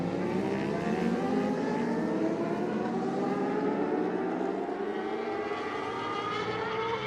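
Race cars on a circuit braking hard into a corner and accelerating back out, loud overlapping engine notes rising and shifting in pitch continuously, close and steady with no talk.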